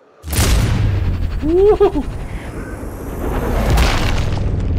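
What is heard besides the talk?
sniper rifle shot in Sniper Ghost Warrior Contracts 2 video game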